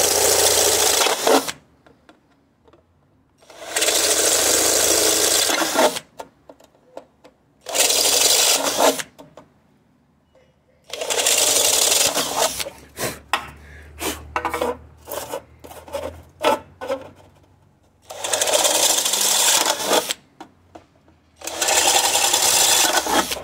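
Repeated bursts of a high, grinding drill whine as a sharp bit bores into plastic for a driver bit stand, separated by quiet pauses and short clicks, close to the listener.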